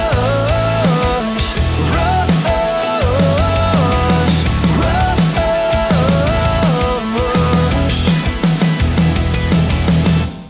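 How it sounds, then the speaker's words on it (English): A live band plays loudly and continuously at a brewery in Greensboro, with thumping drums, bass and melodic lines filling the whole stretch. "You can hear the band behind me."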